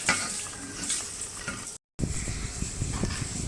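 Soaked rice being stirred into a cooked tomato purée masala in a pan, with a steady sizzle and scraping stir strokes throughout, briefly cut out in the middle, no voices.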